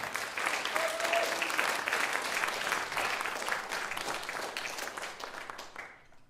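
At a student chamber concert, an audience applauds a producer and sound engineer with a sustained, fairly quiet patter of many hands that holds steady and then fades out over the last second.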